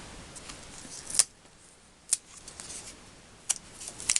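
Scissors snip through paper or cardstock at a crafting table: four quiet, sharp cuts spaced a second or so apart over a faint background hiss.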